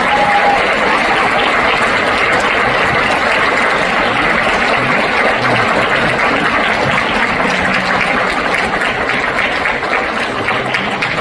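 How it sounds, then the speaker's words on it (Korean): Loud, dense audience applause at a talk concert in a hall, a continuous crowd roar of clapping at even strength throughout with no gaps. "박수 부탁드리겠습니다."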